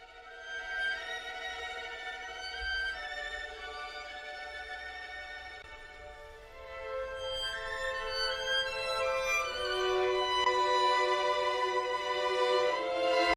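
A live string ensemble captured through a widely spaced pair of Sony microphones gives a soft, airy sustained chord that swells fuller and louder in its second half, with no talking.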